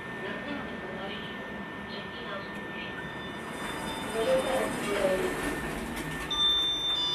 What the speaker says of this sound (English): Some trains are here. Regio Panthers.